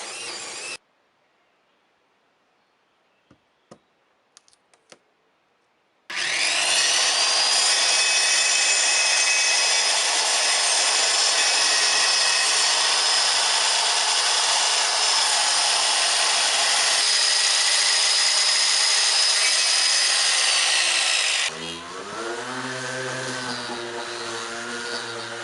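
After a short quiet stretch with a few clicks, a loud power tool planing and sanding wood whines steadily for about fifteen seconds, then shifts to a lower motor hum.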